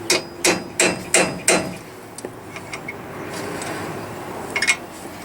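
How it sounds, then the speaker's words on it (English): A metal drift is struck with a hammer to seat a tie rod on a 1999 Toyota Sienna during wheel bearing work. Five loud, close, evenly spaced blows open the sound, followed by faint clinks and a few lighter taps at the end. "I'm going to take a little drift."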